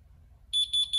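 An ADT glass break alarm sensor gives three loud, high-pitched electronic beeps in a steady pulse, following a brief stretch of quiet low rumble.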